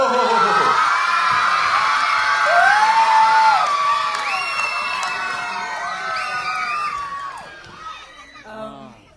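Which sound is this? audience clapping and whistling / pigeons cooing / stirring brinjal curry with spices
audience clapping and whistling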